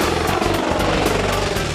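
Low, steady rotor drone of a firefighting aircraft passing over a lake, loud and continuous with a faint rhythmic beat and no one talking.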